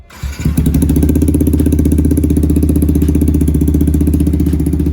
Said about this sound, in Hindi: तो इसको भी लगा दिए हैं और स्टार्ट करके आवाज़ सुनाते हैं आपको।